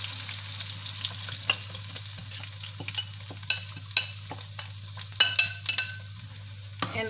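Pepper mix for Sierra Leone pepper chicken sizzles steadily in a pan, with a low continuous hum beneath and scattered scraping stir clicks growing busier toward the end; close and moderately loud, no talking.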